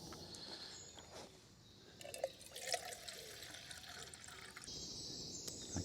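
Half a litre of water is poured into a pot for heating on a Fire Maple Polaris remote gas stove with a pressure regulator, a faint, steady liquid trickle and splash with a few brief knocks, heard without talk.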